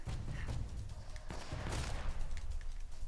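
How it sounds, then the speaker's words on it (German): Gunfire in the video game Uncharted: Drake's Fortune crackles in a dense fusillade, rapid bursts and single shots overlapping continuously at moderate distance, with no talking. "Sie schießen noch, das heißt, irgendwo ist noch einer."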